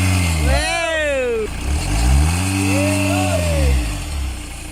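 The engine of a 2009 Hyundai Santa Fe that would not start, now repaired, revs up and down twice in a workshop, with a loud, close rising and falling tone and people talking over it.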